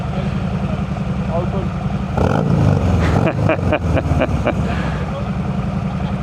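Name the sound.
Harley-Davidson motorcycle engine revving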